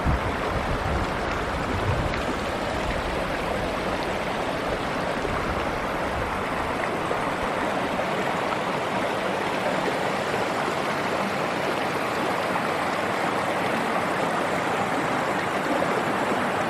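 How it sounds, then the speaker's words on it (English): Steady broadband rush of a stream sliding over granite slabs in the high Sierra backcountry of Kings Canyon, continuous and close, with no voices. "Some water flowing over granite slabs."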